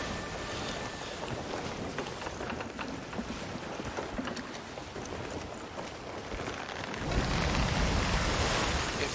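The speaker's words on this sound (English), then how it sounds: "Oh, there's plenty of wind." A galleon sails under wind in the Sea of Thieves video game, with a steady broadband rush of wind and water around the ship that swells louder toward the end.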